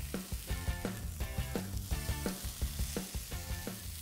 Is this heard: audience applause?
no